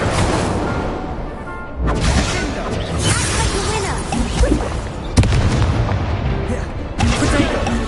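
Spell effects from the Hogwarts Legacy video game, with an Incendio fire spell cast amid repeated booming, whooshing magical blasts and crackling impacts, loud and continuous with sharp bursts throughout.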